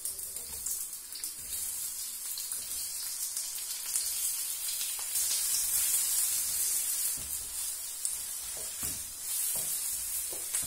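Onions fry gently in oil for a beetroot borscht mix, a soft continuous sizzle with occasional stirring, close and fairly quiet.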